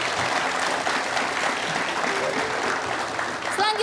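Studio audience applause at an Indonesian television talk show, a steady, dense clapping that stays loud and even throughout with no pauses.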